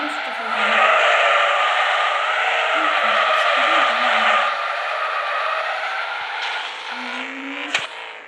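A car in GTA 5 revs and accelerates with a loud, sustained engine roar and screeching tires, the pitch rising and holding, with a brief voice underneath and a sharp knock near the end.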